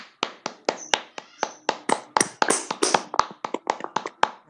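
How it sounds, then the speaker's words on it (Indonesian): A small classroom group claps for a student group's presentation on Faraday's law, sharp, close, individual claps in an irregular but steady run. "Kita berikan tepuk tangan terlebih dahulu untuk penyampaian dari kelompok 1"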